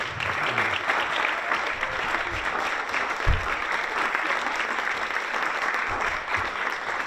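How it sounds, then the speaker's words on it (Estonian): An indoor audience at an Estonian regional culture awards ceremony applauds steadily, dense continuous clapping at moderate volume with a few low thumps, no voices standing out. "Jaa, aplaus."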